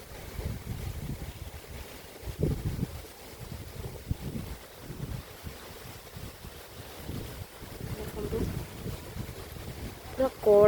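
Strong gusty wind buffets the microphone outdoors around a house in green surroundings, rising and falling in low rumbling bursts while people talk nearby.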